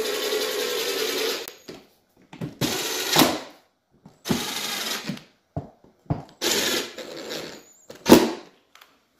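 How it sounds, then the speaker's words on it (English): A power drill whirs in short bursts as it drives screws into the airbox cover of a Yamaha Big Bear 350 ATV, six or so spins separated by pauses, close and loud. "I'm using a drill here, but there's no sense into putting these super tight."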